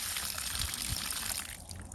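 Water poured from a can onto a perennial garden bed, a soft, steady splashing trickle heard close up and fairly quiet, easing off slightly toward the end.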